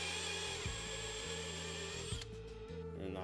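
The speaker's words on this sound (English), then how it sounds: "we'll go ahead and drill this out and then we should be good" A power drill with a 31/64 bit whirs steadily while enlarging a hole during installation of an Alloyworks aluminum coolant overflow tank on a Ford, with brief dips in speed before the bit breaks through.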